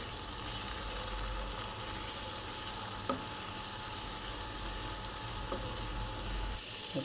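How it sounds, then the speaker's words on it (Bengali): Spice paste sautéing in a pan for an egg, potato and cauliflower curry, a steady close sizzle and frying hiss with a few faint scrapes of stirring, no voices. "এবার ভালো করে মশলাটাকে কষিয়ে নিতে হবে।"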